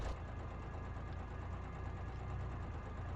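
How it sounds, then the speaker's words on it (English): A car engine idles with a ticky, knocking tone in the BeamNG driving game, set in a career-mode truck. The steady mid-pitched rumble runs continuously without pause and sits close and fairly loud, with no talking over it. "why does this engine sound so ticky?"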